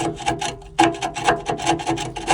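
Rust is scraped off a boat's hull in a rapid series of close, loud, raspy strokes, each a harsh grating scrape repeating in a steady back-and-forth rhythm.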